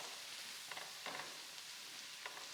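Onions, garlic and thinly sliced mushrooms fry in a pan with a soft, steady sizzle and a few light stirring scrapes, close but quiet, with no one talking.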